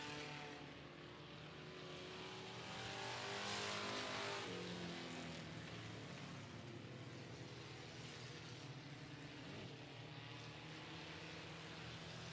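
Dirt track race cars roar around the 105 Speedway oval during a regular race night, engines droning steadily with a swell as the pack passes nearby, then a sustained distant engine wash.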